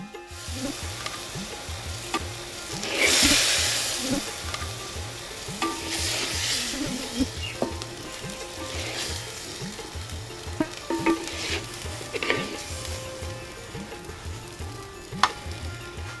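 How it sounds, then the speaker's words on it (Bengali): Shrimp frying in a pan on a stovetop, a loud continuous sizzle with regular scraping stirring strokes and occasional metallic taps, close up and without voices. "চুলার তাপে চিংড়ির গা যখন লালচে রং ধারণ করবে বুঝতে হবে হয়ে গেছে চিংড়ি ভাজা"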